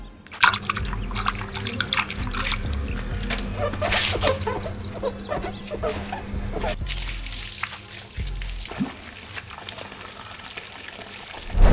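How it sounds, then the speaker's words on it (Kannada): Water sprays and splashes over a motorcycle as it is washed, a continuous running, trickling wash with drips and gushes, plus some handling clatter. "ಪೂಜೆ ಮಾಡ್ಸೋಕ್ಕಿಂತ ಬಿಫೋರು ಗಾಡಿನ ವಾಶ್ ಮಾಡ್ಕೊತೀನಿ"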